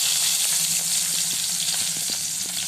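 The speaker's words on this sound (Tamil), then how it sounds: "நம்ம எண்ணெய் ஊற்றி இதை வந்துட்டு ஆட் பண்ணிக்கலாம்" Crushed onion and fennel seeds hit hot oil for a karuvadu kuzhambu (dried fish curry), giving a steady loud sizzle and fry hiss with a few small pops and stirring clicks, no talking.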